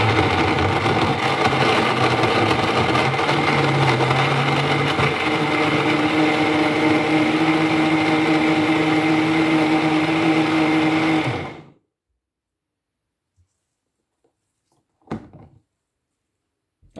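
A kitchen blender purees beetroot with a loud, steady whirring roar for about eleven seconds, then cuts off abruptly, leaving near silence broken by a couple of faint knocks.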